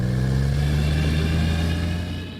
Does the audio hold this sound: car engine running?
yes